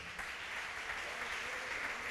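A church congregation claps during a Portuguese-language sermon, a faint, steady patter of many hands heard from a distance for a couple of seconds.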